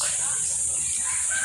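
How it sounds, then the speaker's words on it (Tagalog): Chickens cluck faintly behind a house during feeding, over a steady background hiss, with a brief higher call near the end. "pakain sa manok"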